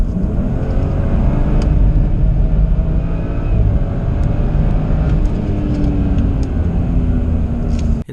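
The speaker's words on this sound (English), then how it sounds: "you hear kind of a stuttering rev limiter kind of sound" A BMW M235i engine held near 6,000 RPM against its rev limiter, a loud, close, sustained droning roar with a slightly uneven, stuttering edge, cut off abruptly at the end.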